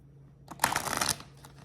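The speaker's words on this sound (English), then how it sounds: "So I'm going to shuffle this" A deck of cards is riffle-shuffled once up close, a quick rapid flutter of cards lasting about half a second, with no talk.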